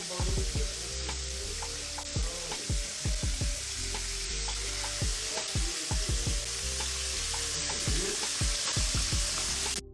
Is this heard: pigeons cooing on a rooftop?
no